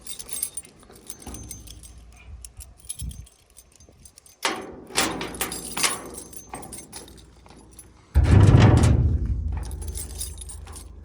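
Keys jangle and rattle in the lock of an old wooden horse stable door on a rundown Portuguese farm, followed by thumps as the door is forced and swings open, the loudest scrape and bang near the end.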